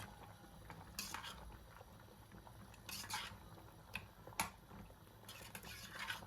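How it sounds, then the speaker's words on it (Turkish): A utensil stirs bolognese sauce in a pot, producing faint scattered clinks and scrapes against the metal at irregular intervals over a quiet background. "Şöyle sosu bir karıştırıyorum."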